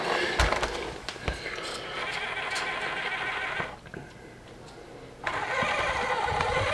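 A cheap RC crawler fitted with an Injora MB100 ESC whines under throttle, its motor buzzing loudly and steadily with a short dip in the middle before surging again, with scattered clicks and knocks from the drivetrain.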